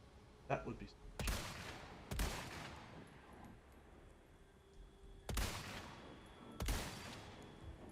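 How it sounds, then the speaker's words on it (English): Sniper rifle fire in Resident Evil 4 Remake: four loud, sharp cracks spaced a second or more apart, each trailing off in a long ringing echo, with game ambience between shots. "That is a true sniper shot right now."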